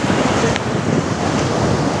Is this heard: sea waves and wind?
yes